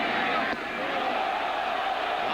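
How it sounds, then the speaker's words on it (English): Crowd noise at Yankee Stadium during a 1998 Orioles–Yankees baseball game: a loud, steady roar of thousands of fans reacting, sustained throughout with a brief dip partway. "Knobloch leans away, and the crowd reacts."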